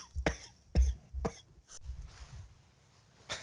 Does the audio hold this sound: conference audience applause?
no